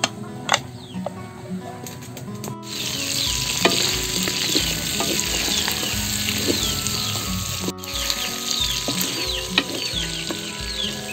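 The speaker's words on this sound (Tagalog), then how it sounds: "unang gagawin natin, pamamantikain na natin yung ating pork belly." Pork belly frying in its own rendered fat in a pan, a loud continuous sizzle with scattered crackles, pops and the scrape of stirring, with a brief pause partway through.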